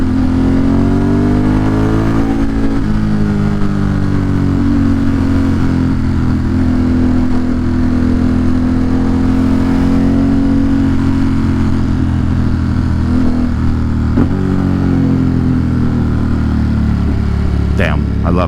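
A motorcycle ridden through New York City traffic revs and pulls hard under steady wind roar, its engine note rising and falling loudly up close throughout.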